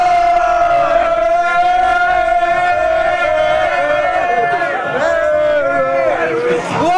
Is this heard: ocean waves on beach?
no